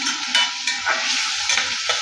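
Tomatoes and onions frying with salt in a pan, a close, bright, continuous sizzle with soft stirring scrapes rising and falling throughout, no voices.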